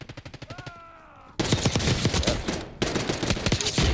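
Rapid automatic gunfire in the Call of Duty Warzone battle royale, Black Ops 6 era, in loud sustained bursts of close shots that crowd the second half of the clip.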